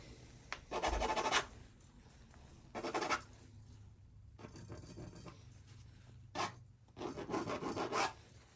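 Pencil or charcoal scratching direction lines across coarse canvas, several short rasping strokes in bursts with pauses between, soft and close.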